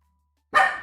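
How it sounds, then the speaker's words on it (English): A dog gives a single sudden loud bark at thunder, close, after near silence. "You're barking at thunder."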